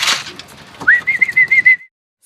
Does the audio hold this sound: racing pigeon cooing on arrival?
yes